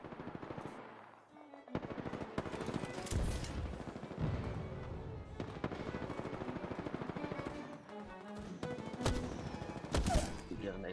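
Rapid automatic gunfire and sniper shots from a first-person shooter video game, loud and continuous with sharp crack peaks, dense bursts filling the whole stretch.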